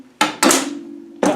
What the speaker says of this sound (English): You have to resort to a hammer.